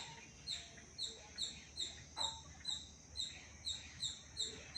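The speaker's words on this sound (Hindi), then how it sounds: "और आपको आवाज़ आ रही है चिड़िया की?" Bird chirps after rain repeat in a steady rhythm, high and bright, each short call evenly spaced against a quiet outdoor background.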